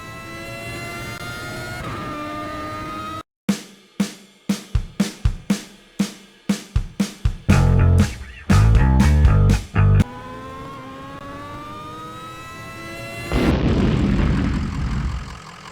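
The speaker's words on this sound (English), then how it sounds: "I'll just activate the turbo." A vehicle's turbo engine kicking in within Kerbal Space Program: a droning engine tone, then a rapid series of sharp stuttering bursts that build into sustained loud roaring, ending in a steady rising whine.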